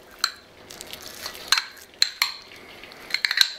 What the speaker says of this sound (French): on se munit d'une cuillère et on tasse bien au fond